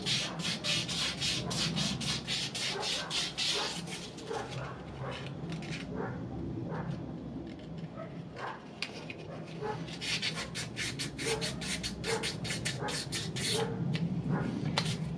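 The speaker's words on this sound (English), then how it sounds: "try and sand these down and deal with them" Sandpaper is rubbed by hand over the rusty fork legs of a Yamaha Neo's 50 scooter, a continuous close scraping in quick rhythmic back-and-forth strokes that continues throughout at a steady level.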